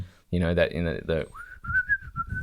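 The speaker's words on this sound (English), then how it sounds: "the whistling music" Whistled melody from the Inglourious Basterds soundtrack, a clear sustained whistle tune carrying over low backing music right after a man's brief spoken line.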